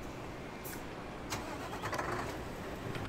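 A large truck engine in the video game Euro Truck Simulator 2 cranking and catching, then settling into a steady low idle rumble, heard from fairly close outside the truck.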